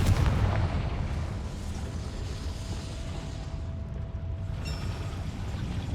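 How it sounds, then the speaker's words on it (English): A Confringo fire spell from Hogwarts Legacy bursts open in a goblin mine, a heavy booming blast with a rumbling tail that stays loud and dense for several seconds and then settles slightly. "Confringo!"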